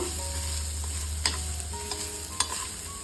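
Grated coconut frying in a pan for toor dal sambar gives a steady, close sizzle, with a few sharp spatula scrapes breaking through and no voices.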